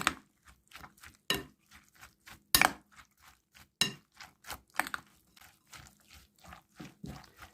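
Two eggs are whisked in a bowl with a utensil for an open sandwich batter, giving a string of quick, close clinks and taps against the bowl at an uneven rhythm, each one short and fairly light.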